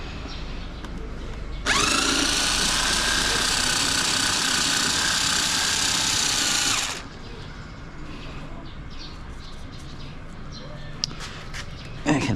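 A power tool runs steadily for about five seconds, driving screws on a Kawasaki Ninja ZX-4RR motorcycle during air filter and chain maintenance, then cuts off, leaving quiet background handling noise.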